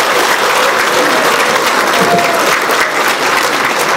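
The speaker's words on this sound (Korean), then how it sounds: "다시 한번 우리 김성욱 기자에게 뜨거운 박수 부탁드립니다." An audience at a rally gives a speaker loud, sustained applause, a dense wash of clapping from many hands that continues evenly throughout.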